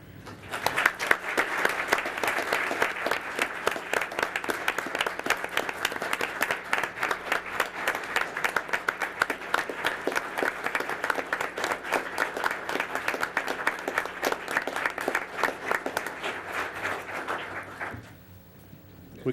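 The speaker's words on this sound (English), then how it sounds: "We can clap all night long." Audience at a city council meeting clapping for two honored men, a long, sustained round of applause from a roomful of people that fades out near the end.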